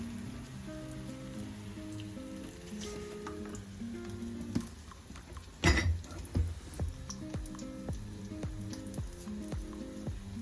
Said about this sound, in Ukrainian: Ось так булькає, не дуже шкварчить.